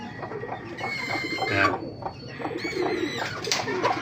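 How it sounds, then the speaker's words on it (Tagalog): A rooster clucks and murmurs nearby in a series of short throaty calls, with other birds cooing softly in the background. "Ito yung ating tandang, si Pacquiao."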